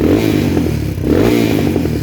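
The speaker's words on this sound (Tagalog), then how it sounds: "Pumuputok-putok yung tambutso." A Honda XR 200 motorcycle runs steadily at close range while its faulty exhaust backfires, giving a continuous engine drone broken by irregular popping crackles.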